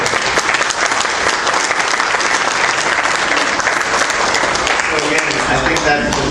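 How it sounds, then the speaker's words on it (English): Loud, dense applause from a banquet audience at a social work awards dinner, sustained and steady clapping filling the room without pause. "she deserves a big round of applause for what she did"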